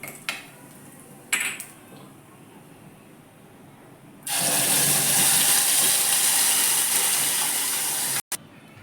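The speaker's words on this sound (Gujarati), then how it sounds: "તો તેલ આવી ગયું છે, હવે તેનો આપણે અડધી ચમચી હિંગ નાખી વઘાર કરીશું" Chutney is tempered with half a spoon of asafoetida in two large spoons of hot oil. A few utensil clinks come first, then a loud, steady, close sizzle suddenly rises and holds until it cuts off abruptly.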